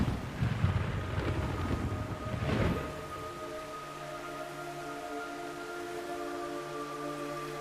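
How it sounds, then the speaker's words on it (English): Rain and rumbling thunder in the Metal Gear Solid 3: Snake Eater video game, a loud rushing downpour for about three seconds that drops away to a quieter, steady tonal hum. "Looks like normal rain to me."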